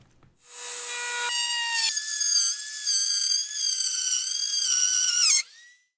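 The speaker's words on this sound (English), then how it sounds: "So I'm going to go ahead and try another cut further up to see if we can get a cleaner cut." A Dremel rotary tool fitted with a router bit cuts into MDF: a loud, steady high-pitched whine that rises as the bit bites into the board, holds for several seconds with slight wavering pitch, then drops away abruptly.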